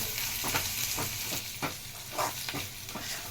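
Ginger garlic paste frying in a pan for mutton pulusu, a steady close sizzle with soft, repeated stirring scrapes every half second or so.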